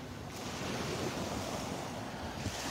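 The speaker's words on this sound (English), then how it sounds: "A little bit of a breeze coming out of the east" A steady breeze blows on a Gulf beach in the early morning at Delnor-Wiggins Pass State Park in North Naples, Florida, with constant wind rush mixed with distant surf and no voices.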